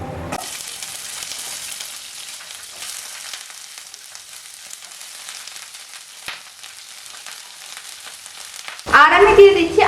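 Cauliflower pieces fry in a wok with a steady, close sizzle that lasts almost the whole time, then a sharper burst of crackling near the end.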